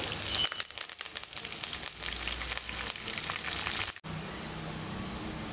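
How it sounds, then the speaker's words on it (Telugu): Dried red chillies and curry leaves sizzle and crackle in hot oil with garlic cloves, a dense, steady frying hiss with occasional stirring clatter, close and continuous. "అలాగే కొన్ని ఎండుమిర్చి అలాగే కరివేపాకు కూడా వేసుకొని వాటిని కాసేపు వేగనివ్వాలి"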